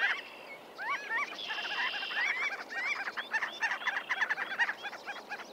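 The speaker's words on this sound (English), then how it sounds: "A flock of marbled godwits is circling low over the sandbar," Marbled godwits, gull-sized shorebirds with long pale orange bills, call in a flock circling low over a sandbar at Lake Helena marsh, a busy overlapping chorus of nasal honking notes at moderate distance, with no voices.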